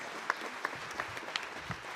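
Sparse, fairly faint applause at a high school spring band concert for the senior band members, a handful of distinct claps spaced irregularly over a soft room background.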